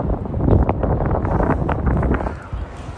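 Wind gusts against the microphone atop a swaying lookout tower near Port Angeles, a continuous loud low rumble with faint voices underneath.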